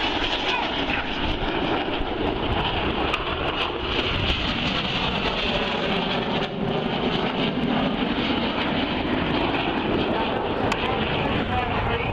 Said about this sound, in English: The synchro aircraft are then going to descend to their display height of just 100 feet.